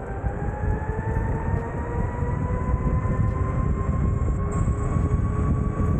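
An electric board's motor runs at full throttle, a steady loud whine with a rising tonal pitch over continuous rumbling road and wind noise, no talking.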